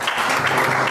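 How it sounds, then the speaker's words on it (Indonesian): A church congregation claps for God during a sermon, a brief dense burst of applause from many people, fairly loud and close. "Tepuk tangan bagi Tuhan"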